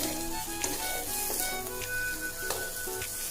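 Salted potatoes frying and being stirred in a pan, a soft steady sizzle broken by several clinks and scrapes of a spoon; no talking.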